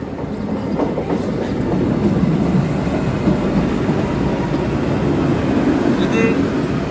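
The Himsagar Express runs steadily, heard from inside a sleeper-class coach on an afternoon journey. A loud, continuous rumble with rhythmic rail clatter goes on throughout, with a faint high squeal near the end.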